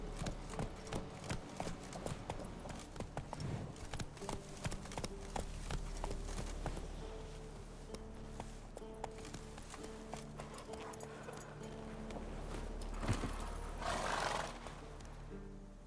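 Roach, the horse in The Witcher 3, galloping with rhythmic clip-clop hoofbeats, several whinnies and neighs, over in-game music and ambience, without speech.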